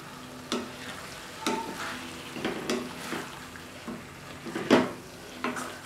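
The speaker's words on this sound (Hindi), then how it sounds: "अब मैं इसमें लहसुन अदरक का जो मैंने पेस्ट बनाया था वो डालूंगी।" Garlic-ginger paste mixed with cumin, turmeric and red chilli powders and salt sizzles in hot oil for an oyster mushroom masala, with soft frying hiss and several scraping stir strokes, no talk.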